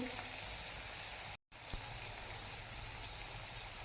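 Liver fry cooking uncovered on a low flame, a quiet even sizzle broken by a brief total dropout, with a faint tap just after.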